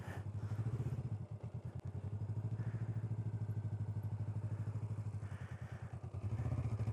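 A motorcycle rides a slow figure eight at low throttle, its engine putting out a steady low putter with a few soft thumps and small swells in loudness throughout.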